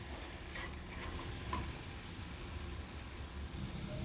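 Ragi (finger millet) flour halwa stirred in a pan with a steady, continuous scraping and soft sizzling, close and moderately loud, no talking.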